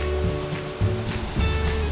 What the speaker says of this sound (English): There are uncountable number of rivers from the melting snow.